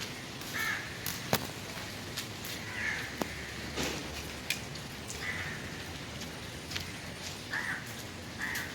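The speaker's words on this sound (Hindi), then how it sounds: "बाहर बारिश हो रही है" Light rain falling outdoors on a cloudy morning, a soft continuous patter with occasional sharper drops, while crows caw several times in the background.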